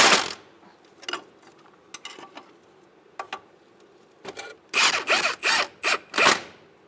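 A ratchet snugs up the front strut bolts on a 2014-2018 Subaru Forester, giving short scattered clicks at first and then a run of louder, rapid ratcheting bursts close by.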